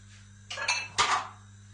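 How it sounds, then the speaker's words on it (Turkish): Kneaded yeast-cake dough being set into a bowl, heard as two brief clattering knocks of the dish against a surface, close and fairly quiet, with no talking. "Şimdi yoğurdum kabın içine alıyorum."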